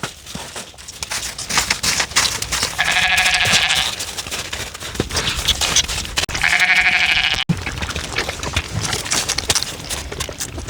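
Several sheep bleat close by on a forest homestead, two long loud cries standing out among shorter calls and barnyard shuffling, with no talk.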